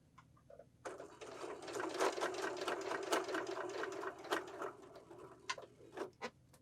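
Sewing machine stitching piping along the edge of a pillow, a steady close mechanical whir with rapid needle patter starting after a brief quiet lead-in and stopping near the end with a few clicks.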